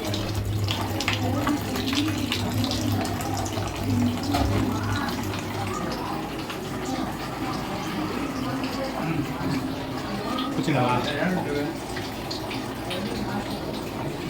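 Water runs steadily from a 100 LPH RO water purifier into a container for a long stretch, a continuous splashing hiss with a faint hum underneath and occasional talk.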